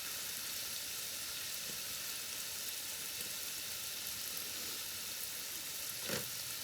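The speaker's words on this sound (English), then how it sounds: "So as this is cooking down, we're just going to kind of stir it up, keep everybody happy and not sticking into one place." Chicken sizzles and fries steadily in a pan, a continuous hiss with soft scraping as it is stirred, including one louder stir near the end.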